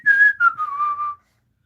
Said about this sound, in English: and began to whistle